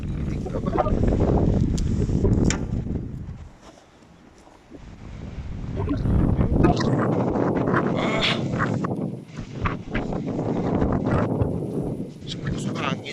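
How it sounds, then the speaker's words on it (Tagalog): Strong wind in a snowstorm gusts hard against the microphone in rough surges, dropping briefly before roaring back. "Sumusok hangin."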